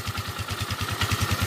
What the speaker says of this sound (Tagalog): divider ng tambucho, maingay pero yung makina napakatahimik na